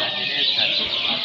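A canary singing in a contest, a bright, continuous high-pitched trill with rolling, unbroken phrasing, loud and close throughout.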